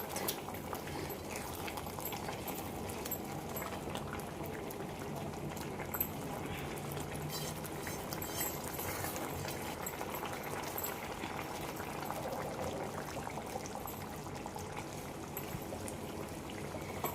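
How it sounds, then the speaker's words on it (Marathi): A continuous bubbling, gurgling wash of liquid close by, steady throughout, as hot water is poured into a simmering Malvani-style chicken curry. "आता मी यामध्ये गरम पाणी टाकते"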